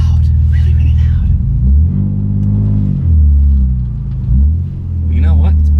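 Inside a BMW E46 fitted with a custom exhaust and headers, a muffled low engine rumble swells and dips in pitch with light revving. A person talks over it.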